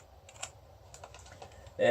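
Computer keyboard keys pressed during a BIOS test of Num Lock, Caps Lock and arrow keys, a few light scattered clicks close by over a low hum, ending in a louder burst.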